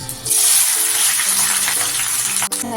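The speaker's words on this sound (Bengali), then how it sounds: "এবার সুন্দর করে বিরিস্তার মতো মানে বিরিস্তাই হবে তো বিরিস্তাটা ভেজে নেব" Finely chopped onions fry in refined oil for birista, a steady loud broadband sizzle that starts abruptly and holds throughout, with faint tonal hum beneath and a brief dip near the end.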